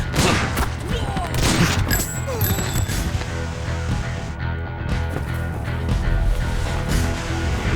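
Gunfire in a dubbed South Indian action film, a dense, loud clatter of shots and impacts mixed with music and effects running nearly the whole time, with a voice calling out among them.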